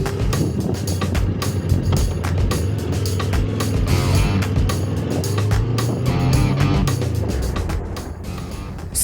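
A Yamaha Tenere 700 adventure motorcycle rides on a sunny day, its engine a steady loud drone with heavy wind buffeting the microphone throughout, and no talking.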